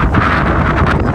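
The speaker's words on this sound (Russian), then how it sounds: "На улице ветер сильный." Strong wind blows outdoors on a city street, buffeting the microphone with loud, continuous low rumble and gusty roar, filling the short moment without any speech.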